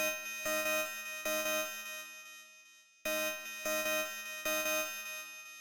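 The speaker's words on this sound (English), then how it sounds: "It sounds like some kind of alarm, some kind of emergency alarm." A bright, piercing FL Studio synth lead pulses in short repeated bursts like an emergency alarm, two identical phrases separated by a brief gap.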